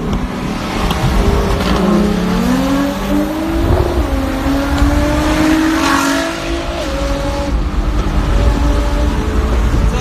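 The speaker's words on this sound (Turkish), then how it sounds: "Lan Özer 300'de nereye gidiyorsun Özer?" A Nissan GT-R races at high speed at night on a road, its engine roaring steadily with rising and falling revs and rushing wind noise inside the car.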